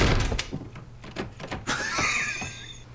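A door in a TV drama, heard as a few sharp thuds and knocks amid room noise and rustling, followed by a brighter sliding or swinging sweep, moderately close.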